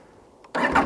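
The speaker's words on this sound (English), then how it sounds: "Oh, should we start up the bike?" A 2023 KTM 890 Adventure R motorcycle engine catches and fires up after a brief quiet pause, settling into a loud, steady, close idle.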